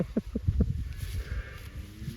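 Cows and a calf on a regenerative farm in winter call with several short bleating moos near the start, then quieter shuffling and low farmyard ambience follow.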